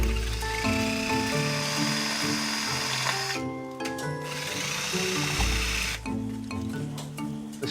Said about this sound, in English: I'm just going to try and drill the weld out of the way